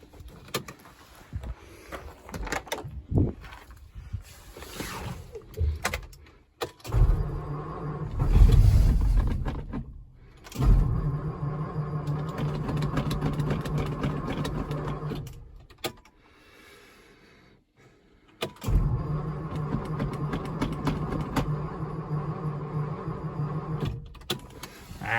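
A 1951 Ford engine cranks repeatedly without firing because no fuel is reaching it. The starter grinds loudly in several long bursts, and pauses and a stretch of near silence separate the bursts.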